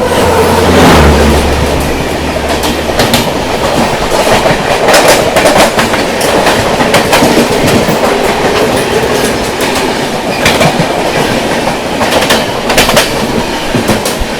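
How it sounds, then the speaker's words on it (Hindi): The New Delhi–Rani Kamlapati Bhopal Shatabdi Express rushes past close by, loud and continuous, its wheels clattering rhythmically over rail joints with occasional sharp squeals. "लो भैया, भोपाल शताब्दी आ गई है।"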